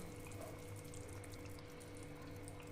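Water running and splashing steadily into a pan on a low gas flame, for a Bengali ridge gourd jal bora curry, a continuous close, moderately loud flow with no talking.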